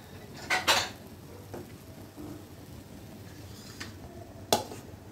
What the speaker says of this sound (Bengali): এটা একটা বাটি দাও ইলমা, বাটির মধ্যে বেড়ে ফেলো।